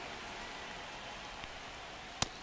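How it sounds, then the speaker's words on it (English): Steady rain falls over a minor-league baseball game, a broad even hiss with a single sharp knock near the end and no talking. "This rain is not letting up."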